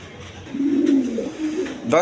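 A pair of black fancy pigeons gives a drawn-out low coo up close, then a shorter one, with a brief voice cutting in at the end.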